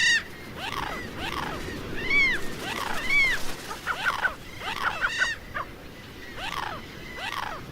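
Gulls on the Atacama Desert shore give repeated rising-and-falling wailing calls, several birds overlapping at moderate distance over a soft background wash.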